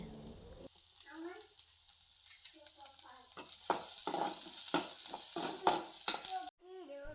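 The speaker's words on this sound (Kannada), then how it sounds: "ಬೆಳ್ಳುಳ್ಳಿ ಫ್ರೈ ಆಗುವಾಗ ಈರುಳ್ಳಿ ಮತ್ತು ಶುಂಠಿಯನ್ನು ಹಾಕಿ ಸ್ವಲ್ಪ ಬಾಡಿಸ್ತಾ ಇದ್ದೇನೆ" Garlic, onion and ginger sizzle in hot oil in a pan, with stirring and scraping strokes growing busier toward the end. A voice talks over the cooking throughout.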